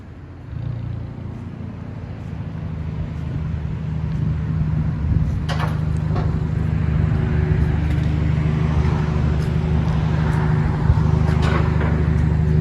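A 2016 Kia Soul with a 1.6L engine and straight pipes revving: a loud, droning exhaust that swells after the start and holds at steady revs, with a few faint clicks on top.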